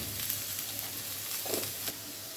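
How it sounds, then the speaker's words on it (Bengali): Onion and garlic frying in oil give a steady, moderately loud sizzle with a couple of faint stirring scrapes and no talking. "পেঁয়াজ রসুন একদম লাল করে ভেজে নিতে হবে"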